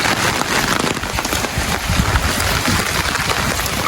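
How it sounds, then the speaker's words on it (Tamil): Heavy rain pouring down during a flood in Jaffna, a dense, constant hiss of drops pattering on surfaces, loud and close with no pauses. "நல்ல கொட்டிக்கொண்டே இருக்கு"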